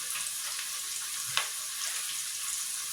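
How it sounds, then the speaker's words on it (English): Onion frying in a pan for a simple breakfast dish, a steady bright sizzle throughout with one brief sharper crackle near the middle, close and fairly loud with no talking. "Now it's for me to fry my onion."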